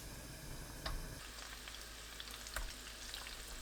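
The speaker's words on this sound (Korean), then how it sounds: "팬에 식용유 3큰술 두르고 두부를 노릇하게 구워냅니다." Tofu pan-fries in three spoonfuls of cooking oil with a soft, low-level sizzle, broken by a couple of faint pops and light stirring touches.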